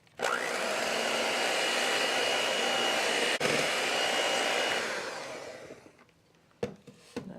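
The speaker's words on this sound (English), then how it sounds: "We're going to mix it until everything is wet, and then we'll scrape it down and mix for 2 minutes." Electric hand mixer whirring loudly and steadily through cupcake batter with oil and eggs, running for about five seconds before winding down, followed by a few faint knocks.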